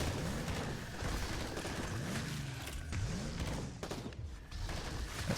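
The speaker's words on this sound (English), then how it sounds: "really nice fireball there from Galavax" Heavily upgraded Galavax unit launching a fireball in Zerspace, heard within a dense, continuous game battle mix of booming impacts, rapid gunfire-like bursts and whooshing effects, with no talk over it.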